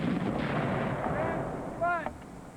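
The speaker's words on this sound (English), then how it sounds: "Our cannon are using too much powder and firing at their trench" A cannon is fired at an enemy trench during a staged Fort Stanwix siege, heard as a muffled, booming blast with a rolling rumble. A brief voiced call rises briefly near the end.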